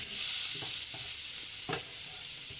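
Whole cumin seeds fry in butter on a tawa griddle with a constant bright sizzle and a few soft scraping stirs, close and alone.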